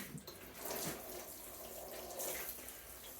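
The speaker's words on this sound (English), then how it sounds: "I am going to water them in. Just a little bit, just to settle the soil around them" Water poured from a can or jug onto newly planted hydroponic tomato plants, a soft steady splashing trickle lasting a few seconds, fairly quiet and close, with no talking.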